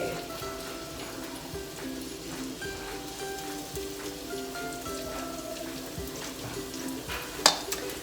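Okonomiyaki, a Japanese savory pancake, fries on a hot surface with a steady, even sizzle and crackle throughout, close and moderately quiet, with one brief sharper pop near the end.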